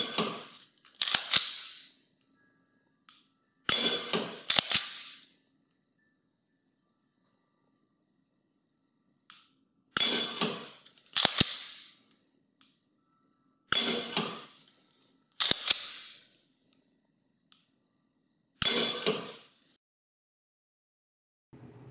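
Solenoid in a homemade laser dry-fire practice trainer snapping in sharp clicks, single and paired, spaced a few seconds apart with near silence between them.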